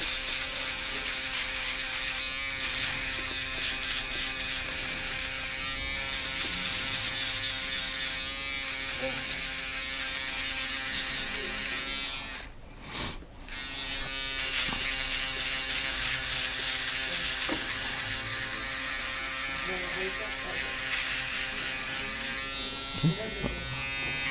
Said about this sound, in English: I can go over the sides here with the shaver